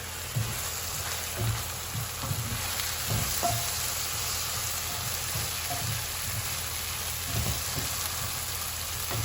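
Onions frying in a warming pot while plantains wait nearby, a steady close sizzle with faint crackles and occasional soft stirring clicks, no voices.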